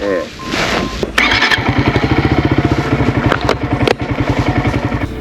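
A Honda Monkey 125 motorcycle engine thumps at a steady pulsing idle, close and loud, with a short burst of revving partway through and a voice speaking over it at the start.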